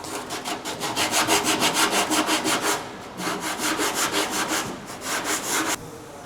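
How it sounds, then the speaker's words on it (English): Scotch-Brite pad scrubbing surface rust off a classic Australian car's body, producing fast rhythmic rasping strokes in two bursts, close and loud, ending abruptly. "You can see that's just scratching all that surface rust off."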